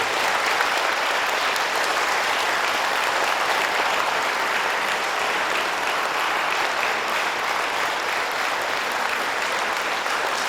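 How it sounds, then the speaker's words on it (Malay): Standing applause fills a farewell ceremony for a departing director, a dense, steady roar of many hands clapping at full strength for the whole stretch with no break. "kita berikan tepukan yang maha."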